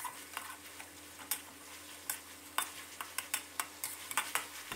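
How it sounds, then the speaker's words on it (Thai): Minced pork with oyster sauce, seasoning sauce and sugar is tossed with a spatula in a pan for stir-fried eggplant. Sparse, crisp scrapes and taps ring out over a faint, low sizzle, with no talking. "แล้วก็ให้เราผัดคลุกเคล้าให้เข้ากันนะครับ"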